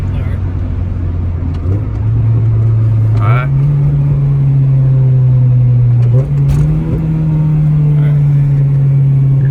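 Honda GSR fitted with a new intake accelerating hard through a pull, engine note rising steadily in steps as it climbs through the revs, loud and close from inside the car, with a brief voice at the start.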